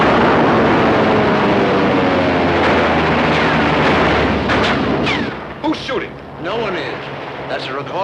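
A recorded war-movie battle soundtrack of the Sands of Iwo Jima kind: dense artillery booms and gunfire roll on continuously, then give way to scattered whistling shells and sharper blasts near the end.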